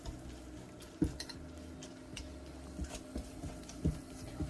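Garlic and onion stirred together in a bowl for a tomato omelette, soft scraping and clinking of a utensil against the bowl in a few separate strokes, faint and close.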